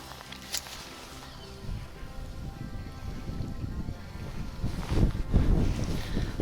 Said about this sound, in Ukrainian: вітер просто божевільний